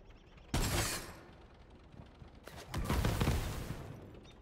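Gunfire from a weapon in the video game Tiny Tina's Wonderlands: two loud bursts of rapid shots, the first sharp and brief, the second longer and rumbling, with quiet gaps between and no talk.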